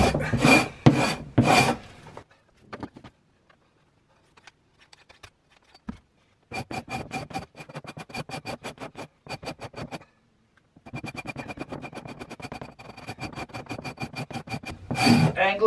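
A hand scraper is pulled across wood in quick, rasping strokes, loud and close, coming in bursts separated by brief pauses.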